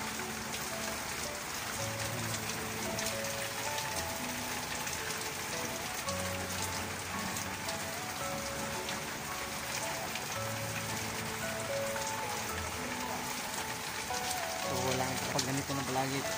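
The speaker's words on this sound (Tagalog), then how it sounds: "Lagi tapos malakas ang ulan." Heavy rain falls steadily and loudly on a roof and surfaces, a dense even patter that runs the whole time under a low voice.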